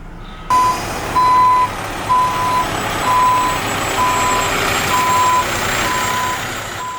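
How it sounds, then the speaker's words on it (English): A dump truck delivering rock reverses with a loud, steady series of evenly spaced backup beeps over a continuous engine rumble, close by, with no talk. "Dump trucks would come in about every 5 minutes, dump rock, it would get spread"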